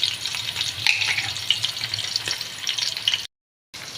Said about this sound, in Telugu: ఇప్పుడైతే ఉల్లిపాయలు అయితే వేగిపోయాయండి